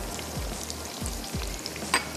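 Masala of tomatoes and spices frying in a pan, a soft, low sizzle with a few dull scraping strokes and light clicks of a spoon toward the end, fairly quiet with no talk.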